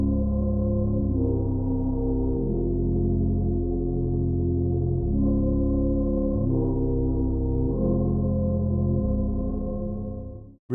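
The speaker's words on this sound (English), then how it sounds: "the warm bass preset, stock bass preset as well." FabFilter synth pad layered with a warm stock bass preset, a smooth, sustained low chordal drone that shifts chords every few seconds, steady and full, with no voices, ending in a brief cutoff.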